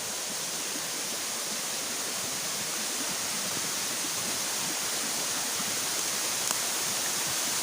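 Kabagawan Falls roaring as a constant, dense rush of falling water, loud and unbroken throughout with no voices.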